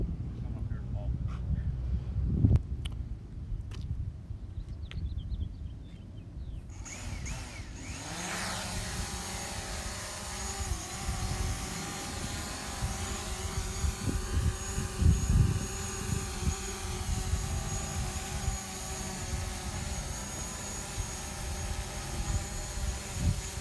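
A sturdy drone's rotors take over after a few quiet seconds, building into a loud, steady whirring hum that holds as the craft hovers nearby.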